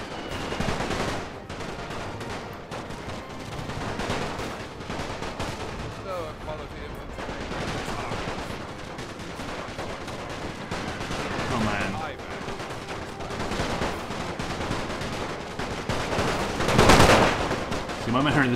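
Rifle fire from British troops in the trenches during a mad minute in the Great War strategy game, a steady dense crackle of rapid gunfire running throughout, with a louder burst near the end.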